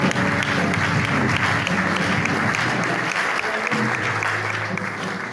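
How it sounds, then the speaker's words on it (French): A crowd at a diploma ceremony applauds, dense sustained clapping that stays loud and even throughout, with a few voices mixed faintly underneath. "Nous acclamons très fort."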